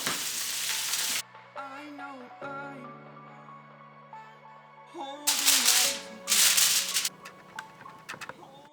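Butter sizzling with garlic and chili in a non-stick pan, bursts of loud frying hiss that swell and fade, with clinks of stirring between quieter stretches.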